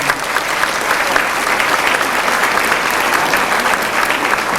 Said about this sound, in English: May we have a hand of applause for these guys.